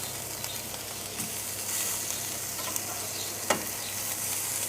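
Garlic bread roasting in a pan over a low flame, giving a steady soft sizzle and crackle throughout, with a few faint scraping or stirring clicks and no voices.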